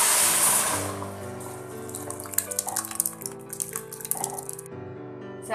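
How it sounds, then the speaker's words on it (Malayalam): Cooked lentils (dal) pour into a pot of drumstick sambar with a soft, wet splashing and gurgling, fairly quiet and continuous before tapering off at the end. "നമുക്കിനി ഇതിലേക്ക് വേവിച്ച് വെച്ചിരിക്കുന്ന പരിപ്പ് ഒഴിച്ചു കൊടുക്കാം."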